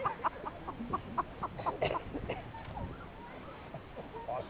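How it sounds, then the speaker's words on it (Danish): A rooster calling amid clucking chickens on a farm, a series of short rhythmic calls at moderate distance over a steady noisy background with no one talking. "Og så kommer hanen, der vil gokke på jer"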